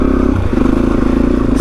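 Suzuki DRZ motorcycle engine labouring up a hill on a muddy green lane in Kent, a loud close buzzing drone that shifts pitch briefly as the throttle changes, with some rattle.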